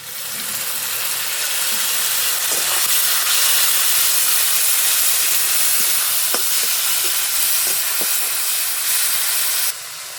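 Ground ginger, garlic, onion, green chilli and cumin pastes with garam masala sizzle loudly in hot oil in a frying pan, a steady bright hiss with occasional pops and stirring clicks, ending abruptly.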